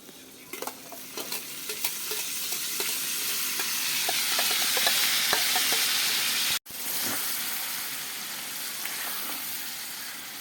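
Steady sizzling of a spice paste being stirred into cooked eggplant in a hot pan, with scraping spoon ticks over a rising hiss and a momentary cut midway, no talking.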